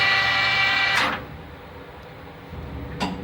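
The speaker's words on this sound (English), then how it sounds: "I'm going to shut the machine off." A metal lathe turning a part with a center drill is switched off, its steady running hum dropping away abruptly and fading as it spins down, followed by a faint clunk of the machine.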